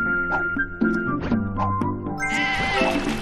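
Sheep in the puzzle video game Divide By Sheep bleat repeatedly in a busy string of cartoonish calls, close and loud, over steady game music with no talking.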